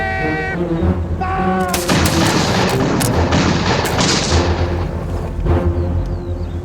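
Massed volley of flintlock musket fire from soldiers in a battle reenactment: a loud, dense crash of overlapping shots bursting out at once after a short lead-in, then rolling and crackling on with scattered reports and a sustained roar.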